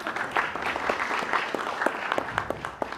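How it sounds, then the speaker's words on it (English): An audience claps steadily for a few seconds, a dense patter of many hands with no voices. "I want everyone else to please give them a round of applause"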